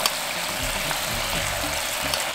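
King oyster mushrooms with sauce sizzle in a frying pan, a dense continuous crackling hiss heard close and steady throughout with no voices.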